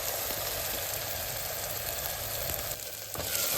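Masala frying in hot oil in a pot for karamani rice, a continuous bright sizzle with faint scraping of stirring, close and steady with a brief dip near the end.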